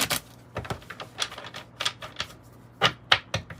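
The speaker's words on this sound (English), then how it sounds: "just going to pre-shuffle my cards that I'm going to use for the reading" Close-up tarot cards being shuffled: irregular, crisp flicking and snapping bursts with short pauses between, fairly quiet overall.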